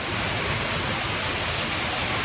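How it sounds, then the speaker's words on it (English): Heavy night-time downpour, a dense continuous hiss of rain roaring steadily and loudly with no pauses. "And it's a downpour."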